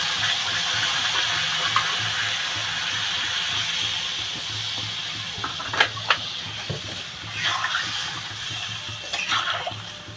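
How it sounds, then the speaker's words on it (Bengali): Water poured into a hilsa fish head curry with green banana: a continuous close hiss and splash of liquid, with occasional clinks and bubbling, and no talk. "আমি এবার জল ঢেলে দেবো"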